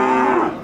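A bull at a livestock market gives one loud, close, drawn-out moo that lasts the whole moment, deep and steady before tailing off.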